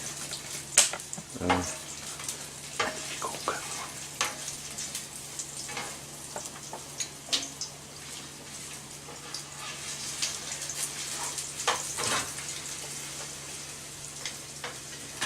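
Cabbage and turkey sausage frying in a crowded pan, giving a steady low sizzle with occasional stirring clatters and scrapes throughout, fairly close and alone without talk.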